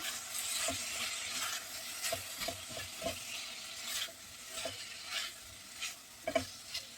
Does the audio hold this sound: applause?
no